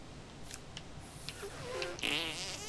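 A cartoonish fart sound effect from the video game South Park: The Stick of Truth, a short buzzing, sputtering blast near the end over faint game background sound.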